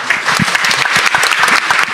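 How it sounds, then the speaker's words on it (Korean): A hall full of people claps warmly for young startup founders at Pangyo Startup Square, thick, lively applause that is close and loud and runs continuously from start to finish. "우리의 희망 창업자들에게 뜨거운 박수 보내면서 마치겠습니다"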